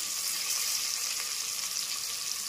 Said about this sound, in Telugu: కొంచెం కరివేపాకు కూడా వేసి ఉల్లిపాయలు ఇలా వేగిన తర్వాత